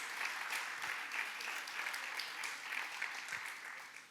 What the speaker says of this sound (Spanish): Dale un buen aplauso de alabanza al Rey por tu vida